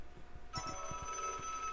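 A telephone rings faintly in the horror video game Desolate, a thin steady electronic tone with soft pulsing beats, distant and alone with no talk.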